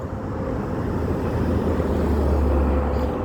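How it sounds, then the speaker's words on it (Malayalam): An airplane flying past near Kuwait airport, a loud broad steady roar that holds and swells slightly over a few seconds, with no talk. "ഇതാ വീണ്ടും ഒരു ഫ്ലൈറ്റ് പോകുന്നുണ്ട്."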